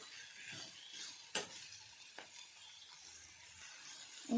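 A spoon stirs pumpkin vegetable curry with spices in a pan, giving soft scraping and clicking contacts with a faint sizzle underneath, including one sharper knock against the pan.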